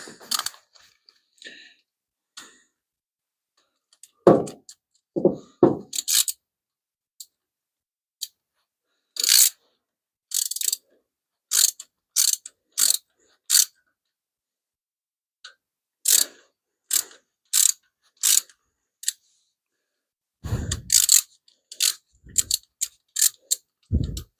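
A hand ratchet wrench works on engine lifters, making repeated bursts of sharp mechanical clicking separated by pauses, with occasional clunks of tools near and fairly loud.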